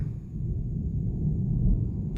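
Deep thunder rumbles low and steady throughout, a continuous rolling roar swelling slightly toward the end, with no voices over it.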